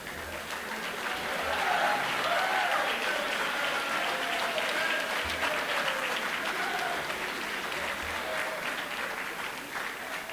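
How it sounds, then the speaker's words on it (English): Audience applause at a school spring band concert: a broad, sustained wash of many hands clapping in a hall, even and moderately loud, with a voice faintly audible beneath it. "If you could hold your applause just till the end"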